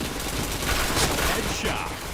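Rapid gunfire rattles in a Point Blank match, short dense bursts close up under a game voice announcer.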